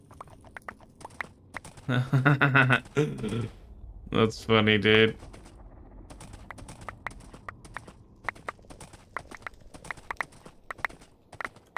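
Rapid Minecraft horse hoof clip-clops patter steadily throughout, light and close, while a person speaks briefly over them near the start.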